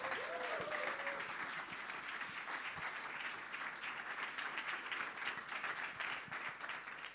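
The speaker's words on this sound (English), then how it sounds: "give your warmest applause, Michael Arnaldi." A room full of people at a software conference talk in Dornbirn applauds, with dense clapping holding steady throughout and a brief voice heard near the start.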